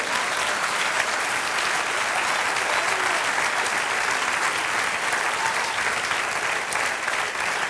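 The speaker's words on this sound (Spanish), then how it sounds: "Denle un aplauso al Señor." Sustained applause from a church congregation, steady and dense throughout with no break, many hands clapping together in a reverberant hall.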